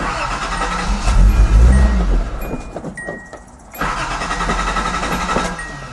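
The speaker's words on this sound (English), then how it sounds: "Now start the car up and run the fuel lines dry." A Datsun 280ZX engine cranks and starts after a fuel injector replacement, roars briefly, dips for a moment, then settles into a steady, loud idle nearby.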